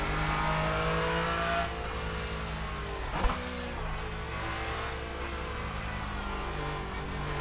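A GT4 race car engine in the iRacing game holds high, steady revs with layered harmonic whine, eases briefly, then climbs again, with one short thump partway through.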